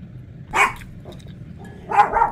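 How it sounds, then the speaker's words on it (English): A dog indoors barks at the neighbors, two sharp loud barks about a second and a half apart with a faint yip between, against a quiet background. "channel dog is barking at the neighbors."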